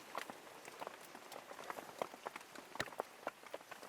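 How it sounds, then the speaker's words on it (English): Steady rain patters on a surface in a Malaysian jungle, with scattered sharper drops tapping irregularly throughout; no voices. "But as you can see, it's still raining."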